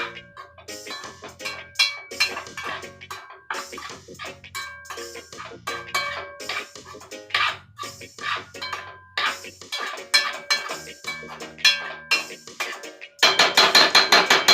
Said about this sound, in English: Keep stirring it, because even when you turn the fire off, which I just did, you still want to stir it for a little bit